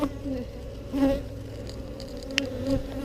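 Honey bees buzz around an open hive frame during a beginner beekeeping inspection in Texas, a close, continuous droning hum that swells and fades with the passing insects, with a faint brief knock in the middle.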